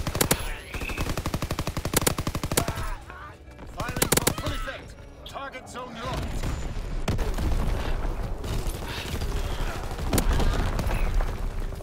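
Video game gunfire with grenade explosions: rapid machine-gun bursts and sharp single shots crack loudly throughout, mixed with heavier booms, while voices talk under the combat.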